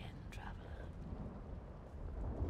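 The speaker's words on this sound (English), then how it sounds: "The thunder is building." Low rumbling thunder with soft rain in the video game The Elder Scrolls Online, a faint, distant roll that swells slightly toward the end.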